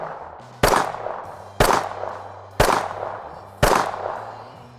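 Four sharp pistol shots fired while leaning out from behind cover, evenly spaced about a second apart, loud and close, each crack trailing into a brief echoing decay, with no voices.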